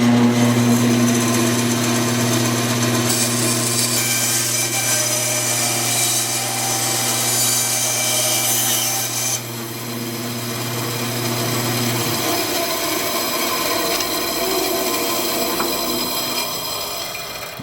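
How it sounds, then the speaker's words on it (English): A bandsaw cuts knob shapes out of masked-off HDPE plastic, a steady loud whine and rasping cut that shifts partway through, then the motor hum drops and a lower running rumble continues alone. "get ready to cut the shape out on the bandsaw"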